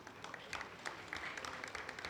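An audience at a citizen platform launch event claps in a brief burst of applause, a dense patter of many hands heard from a moderate distance.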